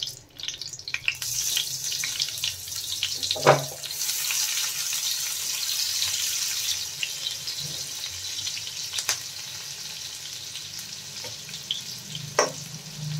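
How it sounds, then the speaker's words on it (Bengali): Chopped onions and green chilies sizzle steadily in a hot pan, a continuous loud frying hiss broken by a few stirring clinks, with no talking. "এবার দেবো পেঁয়াজ কুচিটা"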